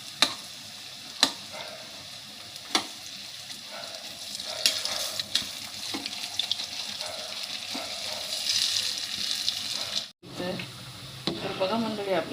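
Vadas sizzle and crackle in hot oil as they are flipped, with scattered sharp spatula taps and a steady frying hiss at low level, briefly cut off before resuming.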